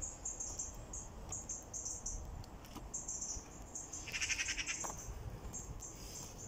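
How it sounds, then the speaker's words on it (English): Faint high chirps and trills from birds repeat outdoors against a soft, hissy background, with one brief louder burst of chirping near the end. "Although you can hear birds in the background."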